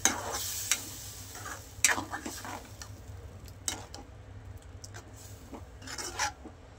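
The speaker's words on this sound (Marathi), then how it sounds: "आणि बघा डाळ टाकून देते. डाळ मिक्स करून घ्यायचे." Dal being stirred and mixed in a pan on the stove: intermittent scraping and clinking of a utensil against the pan over a faint sizzle, close and without talking.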